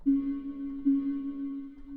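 A sustained tone rings out with its reverb tail, re-struck once, then hangs and lingers steadily at low volume without fading away.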